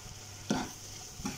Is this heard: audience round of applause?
no